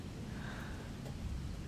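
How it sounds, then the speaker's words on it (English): Steady soft rain falling outside at night, a low, even rush of drops with faint thumps, quiet and continuous with no voices. "the soft rush and thump of the raindrops is all outside"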